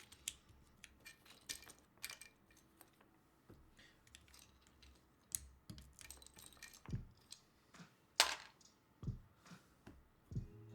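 Keycaps are pressed onto a Nazaré 1-60 prototype mechanical keyboard, giving sparse sharp plastic clicks and snaps at irregular intervals. The sounds are close but quiet, with soft rustling handling noise between them.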